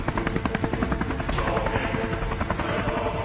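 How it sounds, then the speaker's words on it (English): A Mi-26 heavy Soviet military helicopter, its rotor chopping in a fast, steady rhythmic beat with dense engine roar, loud and close throughout. "The Mi-26 is a 28-ton behemoth"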